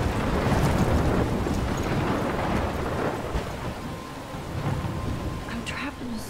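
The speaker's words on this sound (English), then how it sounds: "I'm trapped in a storm?" A thunderstorm with heavy rain in the video game Life is Strange, a dense steady roar of rain with low rumbling, loud and continuous and easing slightly toward the end.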